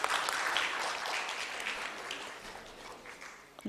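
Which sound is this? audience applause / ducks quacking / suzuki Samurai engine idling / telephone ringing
audience applause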